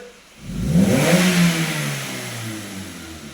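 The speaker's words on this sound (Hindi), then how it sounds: "एकदम एकदम थ्रॉटल दे।" A car engine revs hard at wide open throttle during an engine load test, climbing from idle to a loud roar, then slowly settling back toward idle.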